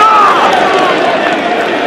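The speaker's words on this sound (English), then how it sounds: "Crowd trying to stay positive." A football stadium crowd backing Jamaica in a World Cup qualifier against El Salvador keeps up a steady, loud roar and babble of many voices, with no distinct cheer peaks.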